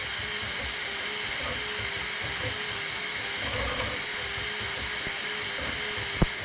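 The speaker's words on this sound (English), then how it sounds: "You can see it's motoring right along there." Steady, even whirring and hissing of a Bambu Lab P1P 3D printer mid-print, a constant fan and motor drone with no voices, ending in a brief sharp click.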